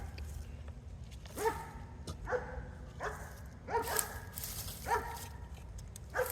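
A dog barks outdoors during a sweet potato harvest, giving about six sharp, evenly spaced barks at moderate distance over a rustling background.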